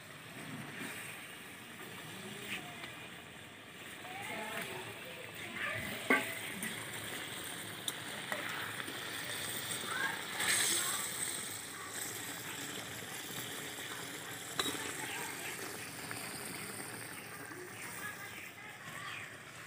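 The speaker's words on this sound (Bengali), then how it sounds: "তো বন্ধুরা ঝোলটা ফুটে উঠেছে, এখন দিয়ে দেবো মাছগুলো।" Pieces of goldfish drop into a boiling curry gravy for malaikari, giving a low steady bubbling and simmering with occasional soft splashes and knocks throughout, no talking.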